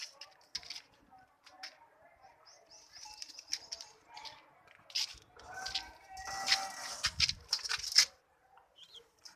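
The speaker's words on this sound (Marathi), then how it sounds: "या भाऊ आहे आपले कबूतर बघा." Pet pigeons kept for flying, heard in bursts of wing flapping and scattered soft coos and chirps, fairly faint and intermittent in a quiet setting, with brief human sounds between.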